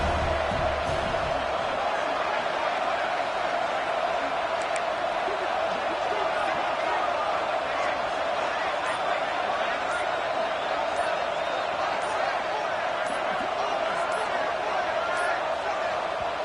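A stadium crowd at a college football game roars in a steady, dense wash of noise throughout, with a commentator talking over it.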